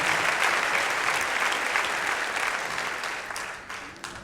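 A church audience breaks into loud, sustained applause, a dense wash of clapping that gradually fades toward the end.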